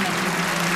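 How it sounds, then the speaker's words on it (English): A home crowd at a figure skating competition in Russia claps steadily in dense, continuous applause, loud and close, filling the brief moment without pause. "you hear the crowd at home in Russia trying to will her on"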